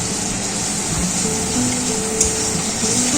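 Ground cumin and coriander, with salt and sugar, fry in a pan while being stirred for a pabda fish curry, giving a steady, fairly loud sizzle with light scraping touches throughout.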